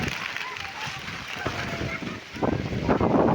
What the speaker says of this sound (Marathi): मस्त वारा पाऊस आलेला आहे